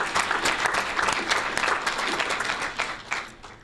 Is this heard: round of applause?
yes